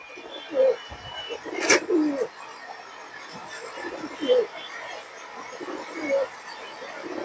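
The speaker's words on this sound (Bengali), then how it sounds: "এই যে এগুলো সব রোডের কবুতর" Soft pigeon coos repeat every second or two over a busy outdoor hum, with one sharp click partway through.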